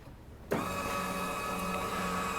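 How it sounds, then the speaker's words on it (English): Linear actuators start up suddenly on a custom C1 car hood, giving a steady electric motor whine that holds evenly for the rest of the moment, close and clear, with no talking. "we've hooked up lineal actuators"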